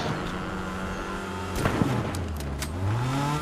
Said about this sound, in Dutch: Let op die auto.